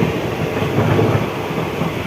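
Inside a Lalgola local train, a continuous heavy rumble of rolling wheels and carriage noise fills the air, steady and close, without voices.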